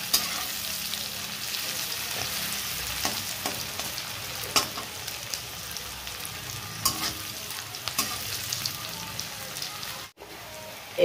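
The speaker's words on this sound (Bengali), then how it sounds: "রসুন আর পেঁয়াজটা একসাথে দিয়ে আমি ভালো করে ভাজা করে নিচ্ছি।" Garlic and onion frying together in a pan, giving a steady loud sizzle with crackling pops and occasional stirring scrapes throughout, up close with no voices.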